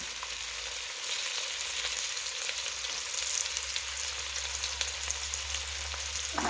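Chopped celery and carrots fry in a pan, giving a steady, close hiss of sizzling that runs evenly from start to finish with no voices.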